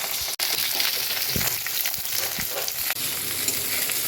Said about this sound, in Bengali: এবার আমি ভেন্ডিগুলোকে কেটে ধুয়ে পরিষ্কার করে রাখা ভেন্ডিগুলো ভেজে তুলে নেব